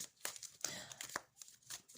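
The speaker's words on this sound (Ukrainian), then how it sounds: "Я тасую карти остальні." Tarot cards are shuffled by hand in quiet, close crinkly riffles and soft papery flicks, faint and intermittent with no talking.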